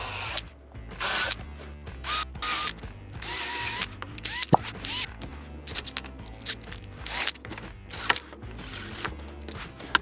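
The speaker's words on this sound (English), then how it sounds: "I'm just going to hit it with an 1/8 inch drill bit and then make a little shallow hole" A power drill boring a shallow pilot hole with a 1/8 inch bit while building a rack, heard as a series of loud, close, stop-start whirring bursts with short pauses between them.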